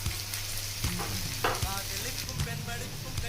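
Chopped tomatoes frying with onions in a pan for a restaurant-style mushroom gravy, a steady close sizzle with a few stirring clatters, no talking.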